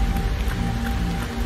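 Steady rain outside on a rainy 44-degree day, a continuous dense patter with no voices or breaks.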